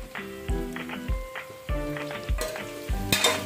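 Carrots with ginger and garlic fry on a medium flame, a continuous sizzle under rhythmic metallic taps and scrapes of a spoon against the pan, close and fairly loud.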